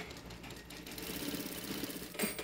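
A sewing machine stitches fabric for an eco bag with a steady mechanical whir, with a brief clack near the end, close and moderately quiet.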